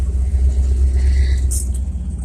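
A 1978 Chevy C10 Stepside pickup with a worn 307 V8 idles on a cold start, a loud, steady low rumble with no voices.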